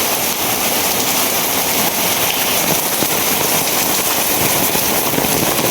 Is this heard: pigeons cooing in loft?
no